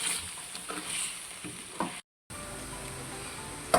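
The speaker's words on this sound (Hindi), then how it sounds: "हमारी पालक जो है वो भुन रही है।" Spinach and mutton frying in a pan for palak gosht, a steady soft sizzle with faint crackles, a brief dropout midway and a small clink at the end.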